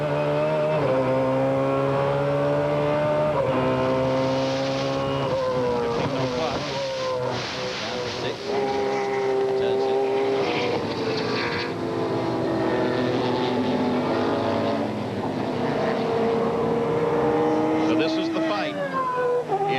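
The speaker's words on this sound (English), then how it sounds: "There's the 13 BMW, the 13 car just being passed." Race cars, among them a BMW sports car being passed at the 1995 IMSA WSC race at Road Atlanta, roar loud and continuous, engine notes rising and falling through gear changes as the cars close up and pass.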